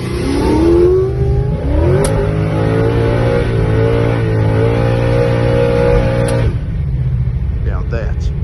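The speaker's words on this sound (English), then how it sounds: "Now that's one badass power skid, like she's on ice." A 650+hp Ford Falcon XE S-Pak with a 408ci Cleveland V8 pulls a power skid on a circuit track, its engine roaring in a loud, sustained rising drone before easing off near the end.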